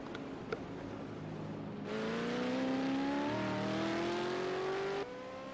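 V8 Supercar racing car engines in a video game at Bathurst's Mount Panorama rev up together with rising, droning tones that hold for a few seconds and then cut off abruptly, over a quiet background hum.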